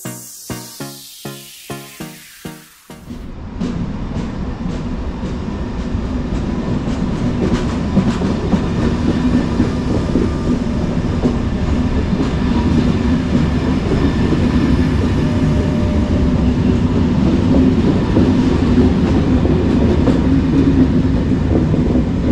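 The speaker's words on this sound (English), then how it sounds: "now we can take a look at the arrival of my train today" Train made up of old Corail coaches arriving at the French SNCF platform of Basel station, a steady loud rumble and clatter of wheels that swells and holds close by after a few seconds of brief knocking.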